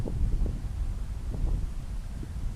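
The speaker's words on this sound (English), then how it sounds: "Really, really fucking windy." Strong outdoor wind buffets a microphone during plein air painting, a steady low rumble with gusty swells and thumps, loud and close, with no talking.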